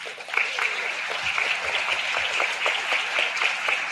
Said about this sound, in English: Boys and girls, make sure you help me give them a round of applause.